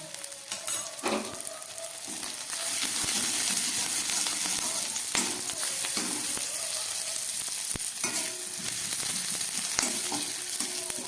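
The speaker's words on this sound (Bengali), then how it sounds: "আদা রসুন কাঁচা লঙ্কাটা ভাজা হয়ে গেছে" Ginger, garlic and chopped green chilli frying in a pan for a fenugreek-leaf paratha, a steady close sizzle that swells after a couple of seconds, with scattered clicks and scrapes from a spoon stirring.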